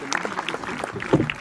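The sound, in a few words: audience applause welcoming guest at school yoga day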